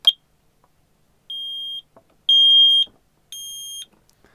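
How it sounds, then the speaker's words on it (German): Shelly Plus Smoke detector sounding a test alarm: three loud, piercing high beeps, each about half a second long, separated by short gaps, with faint clicks between them. "wenn ich jetzt hier den Rauchmelder auslöse"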